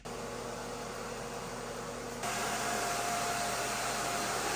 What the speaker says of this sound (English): It has a little side area here that you can push on, and then it will suck all of the hair out